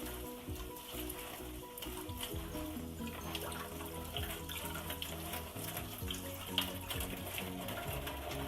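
Running tap water streams over a kitchen strainer while it is rinsed, a steady close splashing hiss with scattered clinks, with no one speaking.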